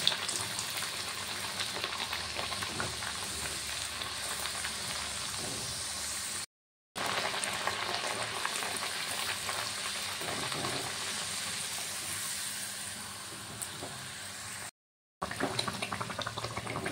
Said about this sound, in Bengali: একই রকম ভাবে আবারও একটা ভেজে নিচ্ছি